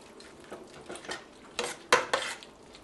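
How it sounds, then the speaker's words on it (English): A spoon stirring salt and freshly ground pepper into chicken stew in a pot, a series of close scraping and clinking strokes against the pot, building to a few louder knocks near the end. "And just stir all that together."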